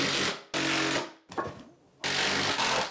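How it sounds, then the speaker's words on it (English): Construction screws, number 8 by 1 5/8 inch, driven into a 3/4 inch plywood subfloor in an old house pantry: loud sustained whirring bursts from a power driver, close, with short breaks between screws. "I got these number 8 by 1 5/8 construction screws to secure the subfloor."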